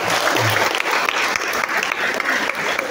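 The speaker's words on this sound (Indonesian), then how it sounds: "Tepuk tangan untuk Pak." An audience at a school competition for elementary and junior high students breaks into steady, dense applause, many hands clapping together at close range without a pause.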